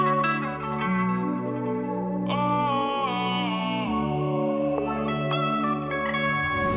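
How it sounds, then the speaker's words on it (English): Looping melodic beat sample treated with compression, chorus and distortion, playing a repeating bass pattern under layered, slightly gritty chords and higher accents; loud, dense and continuous, with no voices. "Also add some distortion to it."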